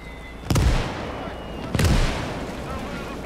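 Two sharp, booming blasts from battlefield combat in the WWII game OstFront, about a second apart, each trailing into a rumbling decay over a steady background din; a voice speaks briefly.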